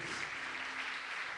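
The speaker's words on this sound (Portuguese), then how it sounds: "Altar de Deus, aplauda o Teu Senhor" A church congregation's steady, dense applause filling the room, evenly sustained throughout with no pauses.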